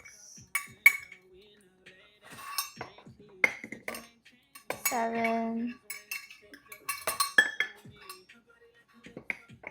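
Metal utensils clink and scrape against pans and bowls in a home kitchen while handmade noodles are being made, sharp scattered clinks over several seconds, with a brief spoken word between them.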